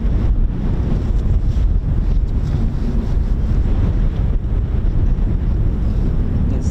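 Strong wind buffets the microphone at an RAF airfield, a loud continuous low rumbling roar that stays constant throughout, with no other distinct sounds.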